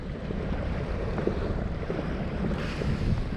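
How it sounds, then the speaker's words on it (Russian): Big waves and gusting wind on the Pechora river surround a small fishing boat, with a dense rumble of wind buffeting the microphone and water slapping close by, steady and loud, with no speech. "Еле доплыли, но волна такая большая."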